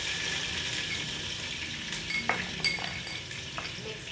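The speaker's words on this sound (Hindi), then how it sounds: "और अब हम डालेंगे अदरक लहसुन का पेस्ट" Ginger garlic paste frying with browned onions in a pot gives a low background sizzle, broken up by clinks and scrapes of a metal spoon against the pot, which grow busier toward the end.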